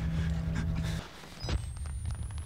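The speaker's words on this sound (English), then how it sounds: "Why is he breathing so hard?" The player character in the Outlast horror video game breathes heavily, with fast, ragged panting under a dark, rumbling game soundscape and a thin rising tone near the end.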